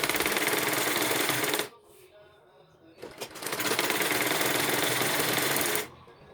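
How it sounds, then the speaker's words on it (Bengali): A sewing machine stitches a petticoat in two loud, fast-running bursts of rapid mechanical clatter separated by a short pause, the motor starting and stopping abruptly. "সুন্দর করে বসিয়ে আমরা সেলাই দিয়ে নেব।"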